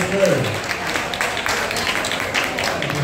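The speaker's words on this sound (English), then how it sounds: "I think those deserve a round of applause." A room of guests at a design fair cocktail reception breaks into applause: uneven clapping mixed with crowd murmur and some talking, fairly close and moderately loud.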